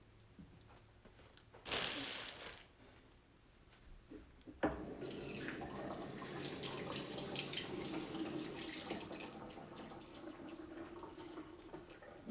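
A kitchen sink tap runs steadily near a small water tank, a constant close rush of flowing water after a couple of brief knocks and splashes.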